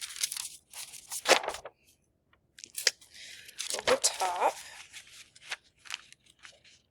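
Sheets of tracing paper rustle and crinkle as they are laid over an architectural drawing, with brief scraping and crisp handling sounds between pauses, while a voice speaks briefly.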